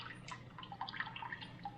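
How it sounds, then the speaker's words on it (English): Water drips and trickles back into a pot of boiling water from a scoop while potatoes are being canned, a close, fairly quiet spatter of small drops and dribbles that thins out toward the end. "I'm going to let it drain a little bit."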